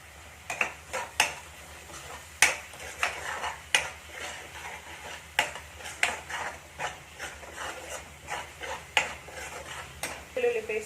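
A spoon stirs turmeric and ginger-garlic paste into a Telangana-style fish curry in a pot, giving repeated scraping clinks against the metal in an uneven rhythm, close and moderately loud, with a faint simmer underneath.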